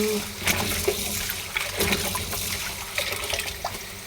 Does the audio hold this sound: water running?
yes